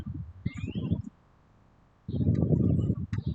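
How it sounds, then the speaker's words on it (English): Birds chirp and sing outdoors in light rain, small high calls and a brief rising whistle heard faintly between stretches of nearby voices and bumps. "They're chirping and they're singing"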